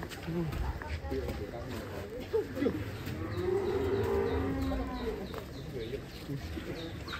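Mother cow in a cattle pen gives a low drawn-out moo amid farmyard noise, with people chatting nearby and birds faintly in the background.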